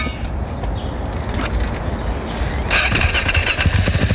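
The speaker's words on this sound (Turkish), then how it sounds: "Bu süper motor deniyor buna. Bu cross motorunun diğer versiyonu." A supermoto motorcycle, a road-going version of a motocross bike, runs with a steady engine drone that grows louder and rougher toward the end, heard up close outdoors.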